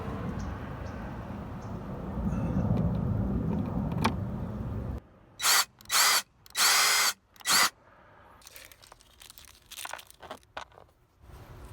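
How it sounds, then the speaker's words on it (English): A power drill runs in a continuous grinding whir, then cuts in and out in several short, loud bursts, followed by quieter rustling and clicks nearby. "Now I could drill this now"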